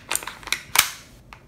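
A firearm's action is worked and closed after the chamber is checked, giving a quick series of close, sharp metallic clicks and clacks, the loudest one near the end, with no voices.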